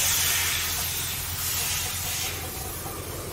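Air hisses steadily out of a PCP air rifle being degassed, a loud continuous broadband rush that holds for the whole stretch with no talking.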